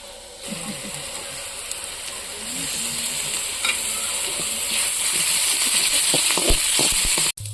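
Crushed garlic sizzles in hot oil in a pan, a constant frying hiss broken by scraping stirs and clinks of a spoon, growing busier toward the end with a sharp knock near the close.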